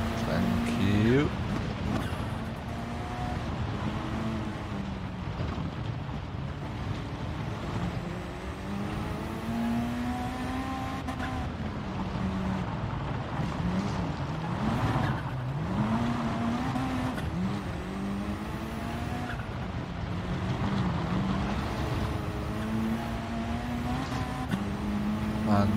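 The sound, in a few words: race car engine in video game Gran Turismo Sport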